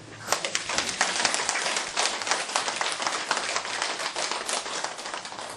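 A workshop audience applauds steadily, many hands clapping in a dense, continuous patter that holds at even loudness throughout.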